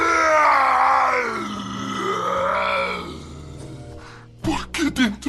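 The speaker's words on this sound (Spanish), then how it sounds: "Dando un alarido, gritó" A man lets out a long, loud, howling scream that wavers up and down for several seconds, then breaks into shorter panting grunts.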